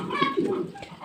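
Pigeons give a short, soft cooing call close by, brief and alone, with no talk over it.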